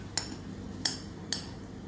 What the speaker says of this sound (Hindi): डालकर हमने इसको एक चम्मच की मदद से अच्छे से मिक्स कर लेना है।